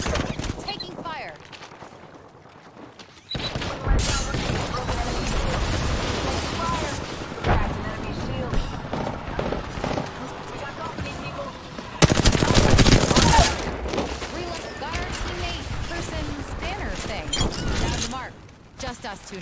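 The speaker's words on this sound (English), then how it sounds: "Taking fire." Sustained gunfire in an Apex Legends match, dense bursts of shots running almost throughout with a louder volley in the middle, mixed with game voice lines and other effects.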